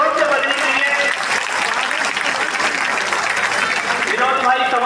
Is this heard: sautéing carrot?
no